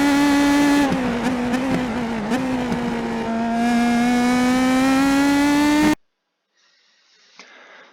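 Loud, close engine note of an IndyPro2000 open-wheel race car on the Long Beach street circuit in iRacing, holding a steady high pitch with brief dips and rises for about six seconds before cutting to near silence with a faint noise.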